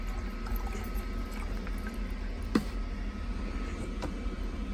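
Water pours steadily into a Jetboil camping stove pot outdoors, a continuous splashing trickle with a single brief knock midway.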